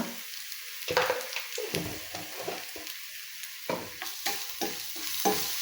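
Sizzling fry in a pan with curry leaves and turmeric, stirred with repeated sharp scrapes and taps over a steady hiss, close and moderately loud.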